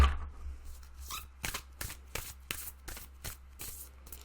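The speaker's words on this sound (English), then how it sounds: "I don't know why I'm shuffling it end to end." A deck of cards shuffled end to end, giving a run of sharp riffle bursts and taps repeating about every half second, close and fairly loud with no talking.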